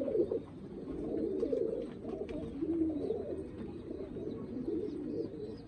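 Pigeons coo steadily on a rooftop, a continuous low burbling chorus of several birds at close range with no talking.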